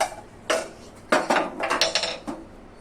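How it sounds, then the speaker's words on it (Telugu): A masher works through cooked lentil dal for a fenugreek-leaf pappu, making a handful of sharp clanks and wet knocks against the pot in an uneven rhythm. "ఇలా పప్పు గుత్తిన దాన్ని తీసుకొని దీంతో చక్కగా మెదుపుదాం"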